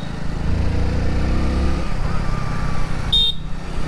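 Traffic rumbles nearby with engine drone, and a short horn blast sounds briefly toward the end over the steady road noise.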